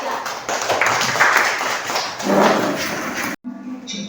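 Uneven clapping from a fourth-grade classroom for a student group, with scattered hand claps, taps and thumps, loud and close, then a sudden cut to near silence.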